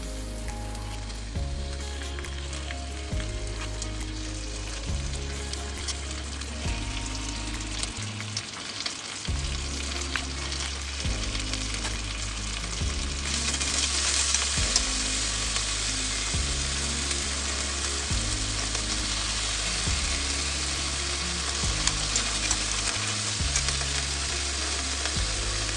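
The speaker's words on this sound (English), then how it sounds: "you can just toss them into the frying pan with that little bit of oil you put inside of there" Chicken pieces fry in a little oil in a frying pan, a loud, steady crackling sizzle that runs close-up throughout, thickening partway through, with a rhythmic low hum underneath.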